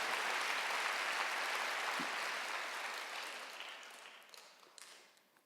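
A church congregation at a Wednesday worship service breaks into steady applause that starts full and gradually thins and fades toward the end, with a few scattered claps at the tail.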